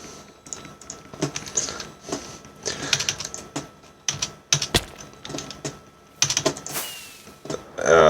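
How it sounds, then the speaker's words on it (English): Rapid typing on a somewhat worn, dodgy computer keyboard, close and loud, with bursts of clattering keystrokes and brief pauses between them. "This keyboard is getting a bit dodgy now."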